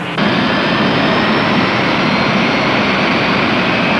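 Jet engine of a military airplane on an aircraft carrier deck, a loud steady roar that starts abruptly and holds at constant high intensity, close by and alone.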